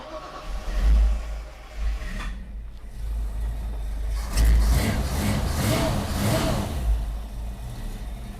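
A car engine runs with a deep rumble inside a garage with the door closed, revving up in a few surges before settling back to a steady idle.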